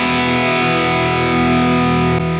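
Electric guitar played through a Valeton GP-5 multi-effects unit, its EQ set as a volume boost: a loud, sustained distorted chord ringing steadily with no voices.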